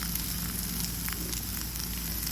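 Onions frying in oil in a home kitchen pan for an egg and okra stir-fry, a steady, dense sizzle and crackle running evenly throughout with no talk.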